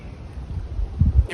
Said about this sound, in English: Windy today. First time in real wind.